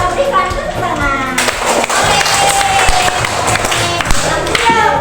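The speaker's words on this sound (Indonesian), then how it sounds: "mari kita berikan tepuk tangan" A classroom of primary-school students bursts into loud, close clapping, with cheers and children's voices mixed in as the applause continues for several seconds.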